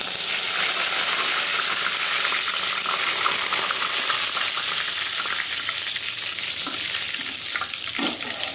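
Curry leaves hit hot sesame oil already holding cumin, fennel and dried red chilies in a Chettinad-style pan, giving a loud, steady, crackling sizzle and hiss throughout with no talking.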